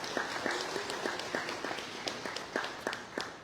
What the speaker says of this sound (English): Let us give God and them a hand clap of praise for the blessing.